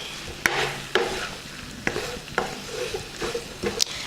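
Matar paneer with paneer cubes, garam masala and cilantro stirred in a sizzling pan, a spatula knocking and scraping in irregular clacks over a soft frying hiss, close and with no talk.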